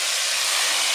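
A hot tadka of oil and green chillies poured onto kadhi gives a loud, steady, hissing sizzle that fills the whole moment, close and without talk.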